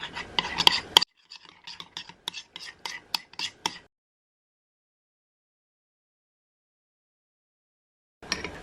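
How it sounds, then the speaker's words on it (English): A mixture being stirred in a bowl, a quick run of rhythmic scraping taps for about four seconds, then silence before a short return of the stirring at the very end. "give that a mix"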